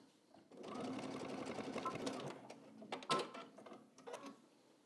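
A sewing machine stitches a track suit jacket zipper in a steady fast whirring run of a few seconds, ending with a couple of short clicks and bursts, with faint talk in the background.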